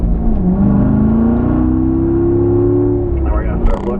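A Corvette engine revs hard and climbs in pitch as the car accelerates up through the gears toward third on a racetrack at a performance driving school. It is loud, close and steady, with a driver's voice running over it.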